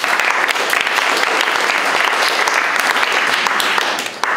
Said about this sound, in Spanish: Ara aplaudim intentant seguir el mateix ritme.